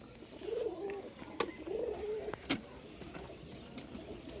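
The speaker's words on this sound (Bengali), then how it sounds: "এই যে সবুজ মাদি কবুতর, সিঙ্গেল আছে" Single green female pigeon cooing nearby, two clear rolling coos with sharp clicks and faint background noise between them.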